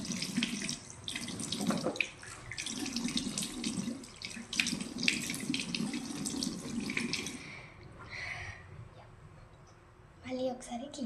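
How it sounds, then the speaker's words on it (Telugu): Tap water runs into a sink while a face is washed, with splashing and trickling for most of the stretch, then quieter drips and a short final burst of running water near the end. "ఫేస్ వాష్ చేసుకోవచ్చు"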